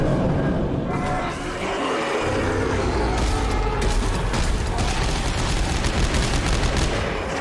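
Continuous dense barrage of booming cannon fire and explosions in a video game, loud and sustained throughout with overlapping blasts and no clear pauses.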